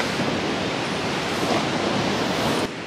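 Steady roar of ocean waves and wind buffeting the microphone on a family beach day, a constant broadband wash that stays loud and unbroken throughout with no talking.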